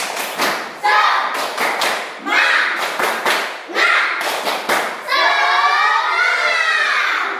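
A group of students does the rhythmic tepuk semangat clap in a classroom, tight bursts of synchronized claps in repeating patterns, then the group ends with a loud shout of the chant.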